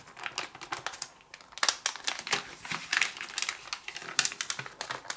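A sheet of origami paper folded in half: close, crisp crinkling and rustling in irregular bursts, fairly quiet, with no talk.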